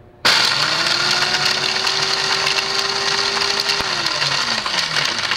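A Technivorm KM4 coffee grinder grinds coffee beans, starting abruptly with a loud, steady motor whine and crunching that holds evenly for several seconds, then pitches down slightly as the load changes near the end.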